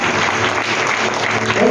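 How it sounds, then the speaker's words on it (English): A church congregation claps together in steady, dense applause that fills the room at a constant loud level for the full length, with no pause. "Can you clap for him?"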